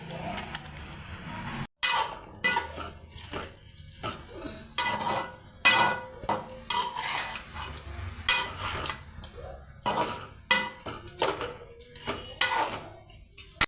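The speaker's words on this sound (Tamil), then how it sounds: "சிக்கனை வெறும் எண்ணெயும் உப்பும் சேர்த்து நல்லா வறுத்துக்கலாம்" Chicken pieces being fried in plain oil and salt for a country-chicken curry, stirred in a pan. A metal spoon repeatedly clanks and scrapes against the pan in irregular bursts, close and fairly loud, over a faint background sizzle.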